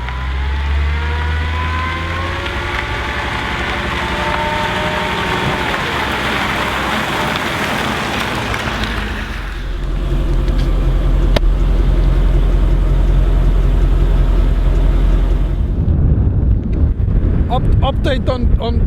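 A Mercedes CLS55 drives along, its engine rising as it accelerates under steady road and wind noise, then settling into a louder, deeper cruising rumble.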